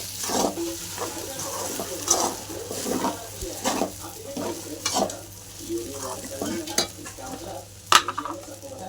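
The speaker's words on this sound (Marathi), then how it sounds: "खिचडी स्लो गॅसवर परतून घ्यायची म्हणजे खाली लागत नाही" Sabudana khichdi with potato is sautéed in a pan over a slow gas flame, giving a steady sizzle under repeated scraping stirs and an occasional sharp clink of the spoon.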